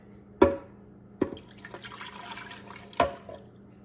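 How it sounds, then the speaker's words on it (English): Water splashes and pours into a blender holding chilies, a few sharp impacts with a steady trickle between them, close by and with no voices. "we're gonna add 1 cup of water"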